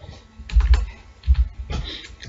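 Bursts of typing on a computer keyboard as code is written, with clustered key clicks in two or three quick runs separated by short pauses, close and fairly clear with no talking.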